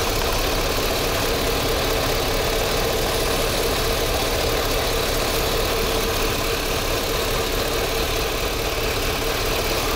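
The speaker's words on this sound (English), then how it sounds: "look how rough the engine just got." A car engine idles roughly during a water test, giving a dense, steady, close mechanical rumble with an uneven knock throughout and no voices.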